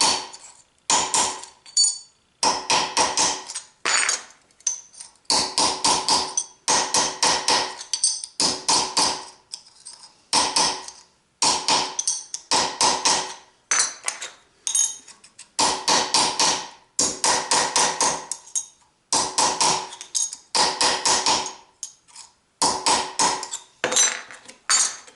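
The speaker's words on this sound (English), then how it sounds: "Tap those straight." A hammer taps small metal tabs straight in a garage workshop during a welding hood project, a long series of sharp, ringing metallic strikes in rapid clusters with short pauses, close and loud, with no talking.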